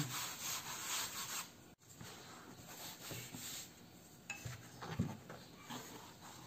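Repeated scraping and tapping of a knife cutting noodle dough on a wooden board, a steady rubbing chop with occasional sharper knocks, close up and without talk.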